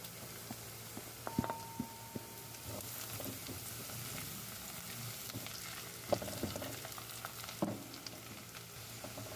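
Chopped garlic frying in a pan for a sarciadong isda fish dish, a low steady sizzle with a few sharp utensil knocks and clinks near the pan, no voices.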